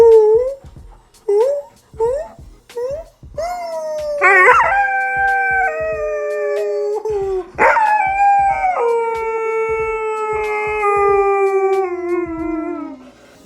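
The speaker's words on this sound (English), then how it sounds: "she'll howl if we howl." A dog howls in long, drawn-out rising and falling wails, several in a row, close and loud, with a few short yips between howls and no talk.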